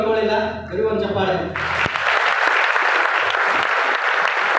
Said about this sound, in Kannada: ಬರೀ ಒಂದು ಚಪ್ಪಾಳೆ.